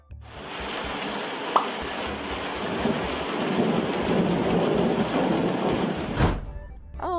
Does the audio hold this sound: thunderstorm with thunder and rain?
yes